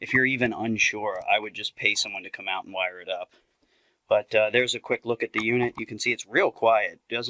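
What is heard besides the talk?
No everyday noise stands out behind the speech.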